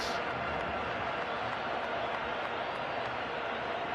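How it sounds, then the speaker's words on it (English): Stadium crowd at a Guinea-Bissau versus Mozambique football match applauds a player, a dense, steady roar of clapping and crowd noise that holds evenly throughout. "It's a warm round of applause for his effort."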